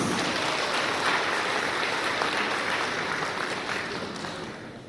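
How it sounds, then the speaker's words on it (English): A large gathering of tourism delegates at a general assembly gives a warm, dense round of applause, steady and loud before it starts to taper off toward the end. "let us begin by giving yourselves a warm round of applause"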